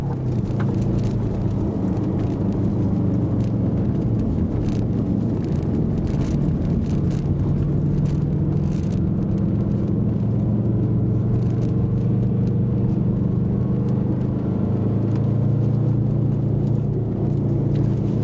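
A race car engine rumbles steadily and loudly throughout during an ice race, a low continuous drone with slight changes in pitch, heard from inside the vehicle.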